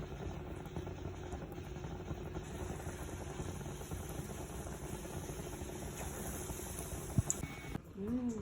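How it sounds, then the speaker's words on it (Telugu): Bonda fritters fry in hot oil in a home kitchen, a continuous bubbling hiss that stays steady and close throughout, ending in a few faint clatters. "ఆయిల్ హీట్ ఎక్కింది ఇప్పుడు బోండాలు వేసుకుందాం"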